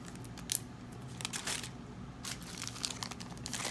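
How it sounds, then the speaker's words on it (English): A small bag is handled up close while beads are put back into it. Faint crinkling and rustling plastic come in short intermittent bursts over a quiet background. "Put this back in the bag."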